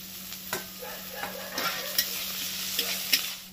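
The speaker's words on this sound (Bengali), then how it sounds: "দেখো পেঁয়াজটাকে পুরো ভালো করে ভেজে নিয়েছি, কালারটা চেঞ্জ হয়ে গেছে" Two onions frying and being stirred in a pan, a continuous sizzle broken by repeated scraping and clinking stirs at uneven intervals, fairly close and without speech.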